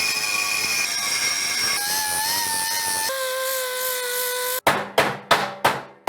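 Sheet metal is cut for a sump on a 1965 Chevy Nova gas tank. A close, high metallic whine steps through several pitches, then gives way to a run of sharp, evenly spaced bursts.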